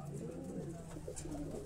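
Low, soft pigeon coos roll on continuously from birds on a rooftop in Jalalpur Bhattian, near and quiet over a light background hum.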